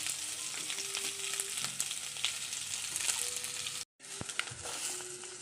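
Onion and green chillies fry in a pan for a chicken sambar, giving a steady close sizzle with a brief break near the four-second mark before the frying resumes.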